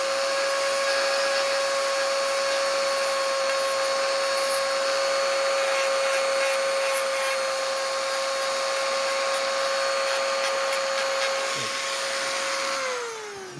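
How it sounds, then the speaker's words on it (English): A Dremel rotary tool grinds a Glock 43 OEM magazine in a long, steady, high-pitched whine that holds constant for about thirteen seconds before spinning down at the end, close and loud with no talking. "take the Dremel"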